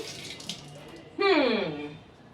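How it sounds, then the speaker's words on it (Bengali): Tap water runs briefly as hands are washed after cooking, a sudden splashing gush that starts midway and fades within about a second, with faint sounds before it. "হাতটা একটু ধুই"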